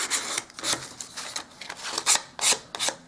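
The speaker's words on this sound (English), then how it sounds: "I'm just going to sand just a little bit." Hand sanding of a painted wood hall table makes short, raspy back-and-forth scrubbing strokes in an uneven rhythm, close and alone.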